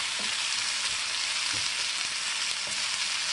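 Carrot and celery frying in a pan for roast beef, a dense, steady hiss of sizzling oil with a few faint soft knocks, close and unbroken.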